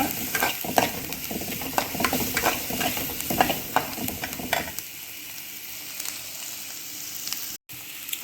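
Drumstick leaves with butter and garlic sizzle in a pan while being stirred, a steady frying hiss with repeated scraping strokes that thin out toward the end, close and moderately loud with no talk.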